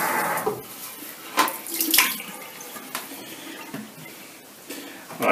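Running water pours and splashes as a household humidifier is rinsed out after a vinegar soak, with irregular bursts of flow and spatter close by.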